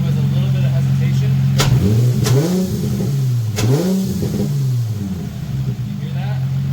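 A Nissan G35 Coupe engine fitted with a cold air intake, revved up and down several times in quick succession: loud and close, pitch rising and falling with each blip, with voices briefly heard.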